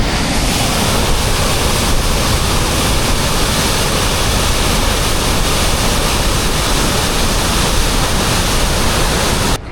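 A powerful Yosemite waterfall roars loud and close, a steady dense rush of falling water with no letup and no voices.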